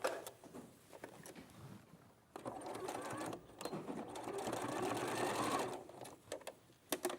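Sewing machine stitching two fabric pieces right sides together, a rapid whirring mechanical buzz that starts, runs steadily for a few seconds and then stops, fairly close with brief handling noises around it.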